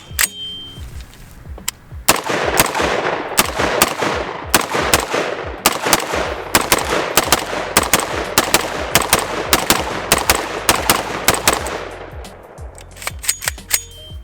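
Palmetto State Armory KS47 Gen 2 rifle firing 7.62x39 rounds, loud close sharp shots in rapid irregular strings with brief pauses, ringing echo between reports, running most of the time.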